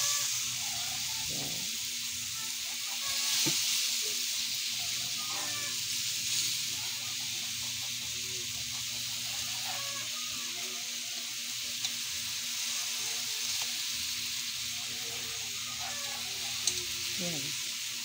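Fried galunggong fish dropped into a hot pan, a steady sizzle and hiss of frying running throughout with light stirring scrapes, a brief voice heard near the end.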